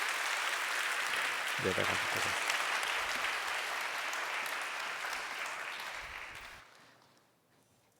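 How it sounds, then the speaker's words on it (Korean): A church congregation at a young adults' worship service applauds warmly to bless a newly baptized brother. The dense clapping is sustained for about six seconds before tapering off, with someone speaking briefly over it. "우리 이은재 형제를 뜨겁게 박수로 축복해 주시기 바랍니다"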